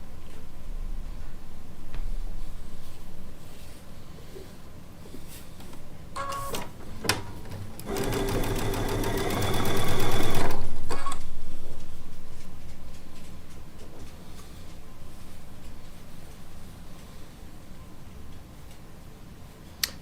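A sewing machine pieces charm-pack quilt fabric blocks for a disappearing four-patch, running in one fast, loud burst of about three seconds mid-way, with quiet handling sounds and light tapping before and after.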